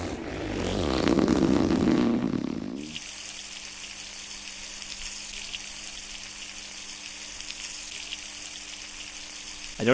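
A character in The Long Drive urinates into a bucket, a steady hissing water stream that starts after a brief louder rumble and continues evenly to the end, close and moderately loud.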